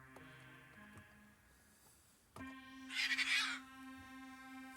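A bird squawk or caw rising sharply over a sustained synthesizer pad and chord tones during a live hardware synth jam, the call loud and bright for about half a second before the synth drones on.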